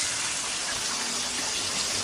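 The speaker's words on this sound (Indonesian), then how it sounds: "Ini mau kita siram pakai minyak yang panas bekas goreng ayam tadi" Hot leftover oil from frying chicken poured over ground sambal, a steady continuous sizzling hiss that stays even and loud throughout, with no talk.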